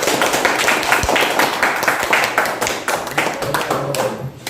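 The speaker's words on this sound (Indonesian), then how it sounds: "tepuk tangan untuk kelompok 1" A classroom audience applauds a student group after its presentation, with close, brisk, somewhat uneven hand clapping from a small group and a few sharp individual claps that stand out.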